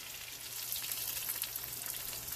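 Chicken cutlet sizzling in oil in a frying pan, a steady, dense crackle and hiss that holds at an even level throughout, close and alone.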